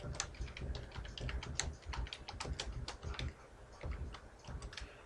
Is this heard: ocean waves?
no